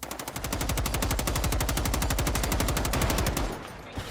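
Sustained automatic gunfire from a submachine gun in the video game Generation Zero, a rapid, evenly spaced stream of loud shots lasting about three seconds before cutting off.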